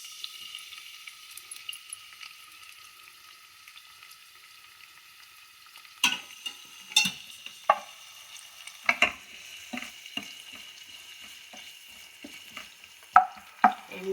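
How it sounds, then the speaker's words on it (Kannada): Chopped onions dropped into hot oil in a pan for an egg curry: a faint, quiet simmer gives way to sharp bursts of crackling and spitting, with scattered stirring clicks, close by. "ಇವಾಗ ಎಣ್ಣೆ ಕಾದಿದೆ. ಈರುಳ್ಳಿ ಹಾಕ್ತಿದ್ದೀನಿ."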